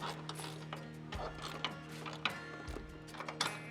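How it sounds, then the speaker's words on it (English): Wrench or ratchet clicks tightening nuts with washers and spring washers on a ute tray tail light mount, a busy run of metallic ratcheting and clinks close up, mid-level with no voice. "Tighten up the nuts."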